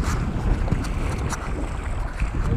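Water of the Volga river swishes and rustles along the side of a boat under light wind, a steady close wash with soft gusty microphone buffeting and no talk.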